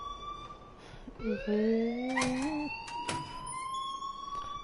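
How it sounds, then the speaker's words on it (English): A wailing, rising electronic alarm sounds in the video game Life is Strange. It sweeps up in pitch, is loud and clear for a few seconds, and a voice briefly speaks over it. "please turn off that alarm since that's your job"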